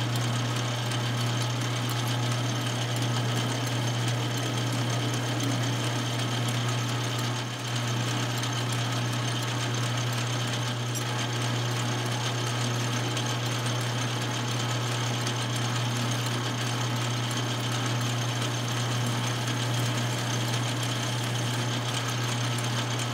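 Metal lathe drilling an 11/64 inch hole in metal stock, a steady loud machine hum with a constant low drone running unbroken and close throughout, no talking.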